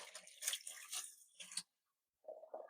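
Water splashing and trickling over a handful of polished stones being rinsed, close and fairly quiet, in two bursts separated by a short silence.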